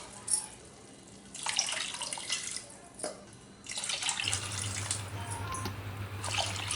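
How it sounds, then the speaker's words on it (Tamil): Water poured from a cup into a simmering pot of cooked-down tomatoes for tomato biryani, coming in a few separate splashy pours with quieter gaps between them and no talking. "தக்காளி எல்லாம் நல்லா வெந்து வந்த உடனே இதில் நான் 4 கப் அளவு தண்ணி ஊற்றிக்கிறேன்"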